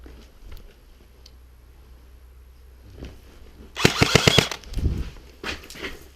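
During an outdoor airsoft skirmish, a quick burst of several sharp airsoft shots rattles in rapid succession, followed by a few scattered pops at moderate distance.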